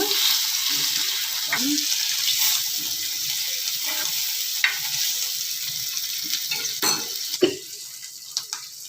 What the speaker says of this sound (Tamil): எண்ணெய் நல்லா காஞ்சிருச்சு இப்போ வந்து கருவாடு போட்டு வறுத்து எடுத்துடலாம்